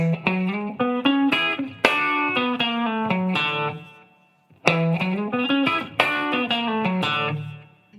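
An electric guitar plays a classic country lick with hybrid picking, a quick run of bright, slightly overdriven notes and bends, a brief pause, then the phrase repeated, clean and up close.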